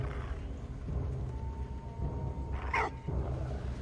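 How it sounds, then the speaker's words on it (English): A dog barks in the World War One video game Valiant Hearts: The Great War, one sharp bark rising over a low rumbling game soundtrack. "Don't bark, you're so loud."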